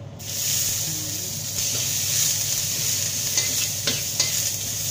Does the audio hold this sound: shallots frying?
yes